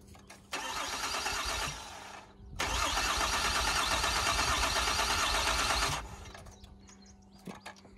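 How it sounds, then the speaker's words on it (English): The engine of a crashed Ford Fusion on a NOCO jump starter cranks in two long, loud bursts, grinding for over a second, then for about three seconds, without firing into an idle, followed by quieter knocks. "I'll grab the NOCO, see if we can start this again."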